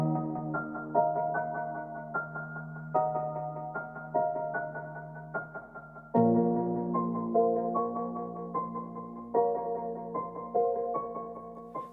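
A soft plucked melody layer in an FL Studio trap beat, processed with reverb, delay, OTT compression and a vinyl effect, repeating notes with quick decays over a low hum; quiet and alone.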